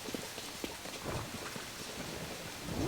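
Steady hiss of rain falling in an outdoor scene of the video game Zelda: Tears of the Kingdom, a soft, constant wash with faint patters, fairly quiet and with no talk over it.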